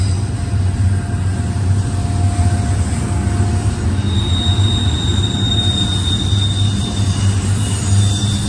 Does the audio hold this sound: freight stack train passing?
yes